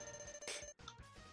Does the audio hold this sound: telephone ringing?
yes